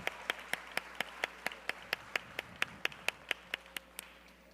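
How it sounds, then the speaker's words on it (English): A single pair of hands claps in a steady, evenly spaced rhythm at a graduation ceremony, each clap sharp and distinct against a quiet background rather than a full crowd's applause. "let's just give everybody a round of applause"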